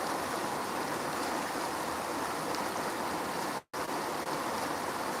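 A stream swollen by heavy rain rushes steadily past with a broad, continuous roar that holds throughout. There is one brief dropout near the end, and no voices are heard.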